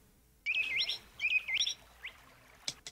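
Recorded bird chirps played back on a computer running Astra Linux through Wine, heard as two quick bursts of bright, warbling tweets, then a lone chirp and a couple of sharp clicks near the end, with no talk over them.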